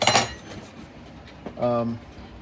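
Heat-treated steel knife blades, a bushcraft knife among them, clink and rattle when handled: a sharp metallic clatter at the start, then a ringing metal tone near the end, with quiet stretches between.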